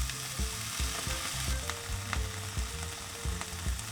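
Japchae vegetables and mushrooms sizzle loudly in a pan, cooked with water instead of oil, with steady crackling and repeated scraping, stirring strokes close by.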